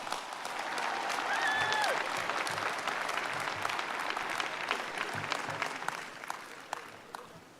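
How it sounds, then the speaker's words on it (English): Commencement audience applauding graduate students at a spring ceremony, a sustained dense wash of clapping from a large crowd that stays steady throughout, with a faint whistle near the start. "Can we get one more round of applause for our graduate students?"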